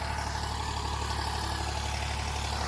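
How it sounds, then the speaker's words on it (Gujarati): A tractor engine runs steadily out in a field, a continuous mid-to-low droning hum at moderate distance with no break or change in pitch and no voices. "જો અહીંયા ટ્રેક્ટર આવે છે ટ્રેક્ટર હેડે છે"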